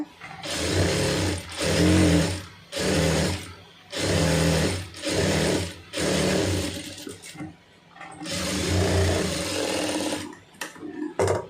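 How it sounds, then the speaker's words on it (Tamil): A sewing machine stitches a puff sleeve joint in loud, close runs of rapid whirring, about six bursts separated by short pauses, with brief starts and stops at the end. "கரெக்டாக அந்த ஜாயிண்டில் தையல் ஓட்டிடுங்க"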